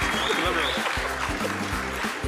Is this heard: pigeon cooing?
no